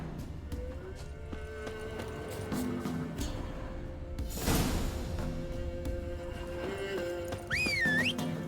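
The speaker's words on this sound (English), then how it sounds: "Whoa there, Roach." In the game The Witcher 3, a horse whinnies, snorts and clip-clops its hooves, with a whoosh in the middle and a rising whistle-like whinny near the end.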